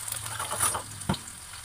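Onion sautés with garlic in hot oil in a pan, a continuous close sizzle and crackle. A single clack of a utensil is heard partway through, and nobody speaks.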